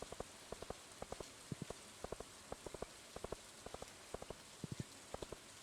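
Steady rain hisses in the Stardew Valley video game, faint and even, while a regular run of soft footstep-like clicks taps along over it.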